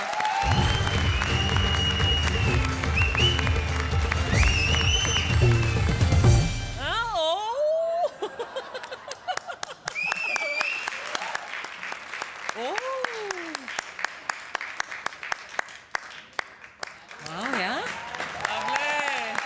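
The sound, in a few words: audience applause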